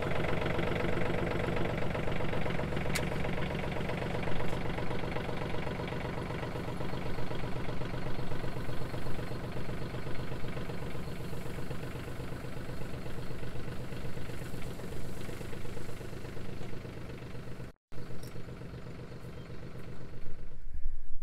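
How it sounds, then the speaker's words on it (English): Tractor engine idling on a farm during work on a New Holland 451 sickle bar hay mower: a steady, rumbling diesel idle with a regular low knock, briefly cutting out near the end before resuming. "I might move the tractor again because we have found ourselves in the sun again"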